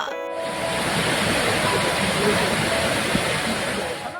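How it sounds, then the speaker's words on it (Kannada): Hebbe waterfall near Kemmannugundi in Tarikere, Chikkamagaluru district, swollen after heavy rain, roars as a dense, loud, continuous rush of falling water that fills the whole clip. "ಹೆಬ್ಬೆ ಜಲಪಾತ ಮೈದುಂಬಿ ಹರಿಯುತ್ತಿದೆ"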